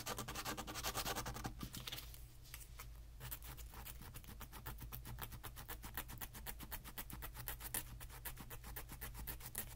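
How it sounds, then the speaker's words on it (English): Small wooden clock part being sanded by hand, a soft, steady rasping rub that repeats in quick strokes at close range for the whole stretch, with no talking. "which I want to sand off this little piece here"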